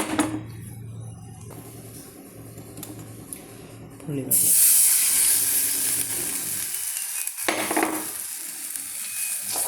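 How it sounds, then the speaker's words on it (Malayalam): Tamarind water poured into sautéed masala spices for ginger curry, a loud burst of hissing sizzle that settles into steady frying and bubbling, with faint stirring noises. "മസാലപ്പൊടികളെല്ലാം കൂടി ഇട്ട് വഴറ്റി വഴണ്ട് വരുമ്പോൾ നമുക്ക് പുളിവെള്ളം ഒഴിച്ച് കൊടുക്കാം"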